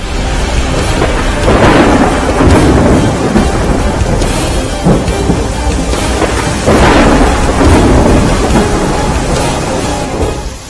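Heavy rain pours down across Saurashtra, Gujarat, a loud continuous roar broken by repeated rumbling thunder claps that swell and fade, with no voices.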